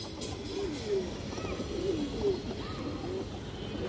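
Old-line pigeons at a farm give soft, repeated throaty coos, faint and close against a low background hum.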